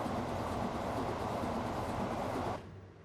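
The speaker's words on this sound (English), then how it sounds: "Train's on the way." A train rumbles along in the Transport Fever simulation game, a steady dense rolling drone with faint rhythmic rail clatter that drops away abruptly near the end; no voices.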